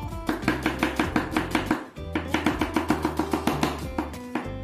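Rapid, steady knife chops on onion against a cutting board, a quick even rhythm of close, loud taps with one brief pause midway, set over a faint background hum.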